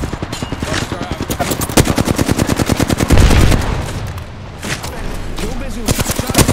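Rapid automatic gunfire in Apex Legends, a loud sustained burst of evenly spaced shots with a heavier blast midway, continuing in bursts under voices.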